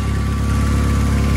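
The engine of a GSX Spyder idles steadily after an oil flush, with a suspected exhaust seal leak. The rumble is low, constant and close, with a faint rapid ticking running under it.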